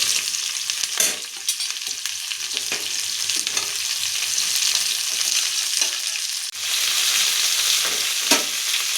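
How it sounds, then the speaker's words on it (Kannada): Onions fry in a pan for a quick onion palya, giving a steady close sizzle broken by scraping stirs and brief dips in the hiss, with no talking. "ಇವಾಗ ಆನಿಯನ್ಸ್ ಹಾಕ್ಕೊಂಡಿರ್ತಾ ಇದ್ದೀನಿ."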